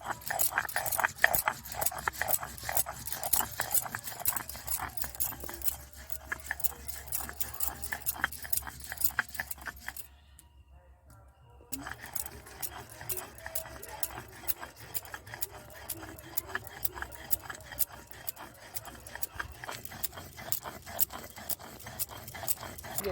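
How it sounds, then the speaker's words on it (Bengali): Black mustard seeds are ground on a stone with quick, regular scraping strokes. The strokes stop briefly midway, then resume, close and fairly faint, with occasional voices in the background. "এই কালো সর্ষেগুলো বেটে বেটে নিচ্ছি"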